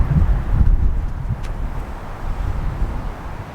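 Cold gusty wind across an open golf course, a low rumbling buffet on the microphone that rises and eases, steady and close, with no voices.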